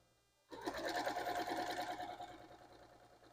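A sewing machine starts up after a brief quiet and whirs steadily at close range while chain sewing quilt blocks, then slows slightly toward the end.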